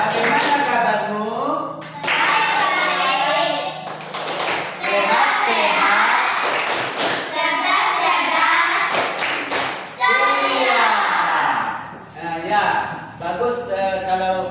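A class of children in an Indonesian school lesson claps a rhythmic greeting chant together, bursts of clapping alternating with their voices chanting and a teacher speaking.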